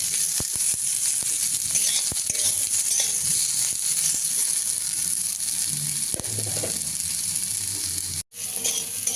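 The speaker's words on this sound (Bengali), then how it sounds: "এবার সবজিটা একটু ভালো করে ভেজে নেবো।" Vegetables with slit green chillies frying in hot oil in a pan for a chickpea-greens dish, a dense continuous sizzle with crackles and occasional utensil scrapes from stirring, briefly cut off near the end.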